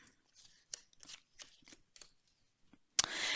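Tarot cards shuffled by hand: soft, scattered rustles, then a sudden close, dense riffling burst near the end.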